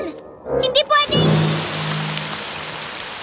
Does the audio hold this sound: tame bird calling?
no